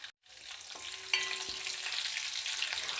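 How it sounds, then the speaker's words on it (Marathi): Garlic and curry leaves sizzle in hot oil in a pan while cooking peanut amti, with a steady crackling fry and a brief stir near the start. "इथे लसूण कडीपत्ता तेलात चांगला परतून झालेला आहे"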